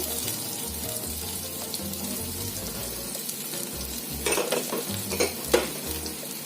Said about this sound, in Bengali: সবজিগুলো দিয়ে দেব। দিলাম পটল, আলু,